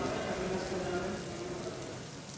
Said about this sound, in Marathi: ठाण्यामध्ये पावसाची संततधार सध्याही सुरूच असल्याचं आपल्याला पाहायला मिळतंय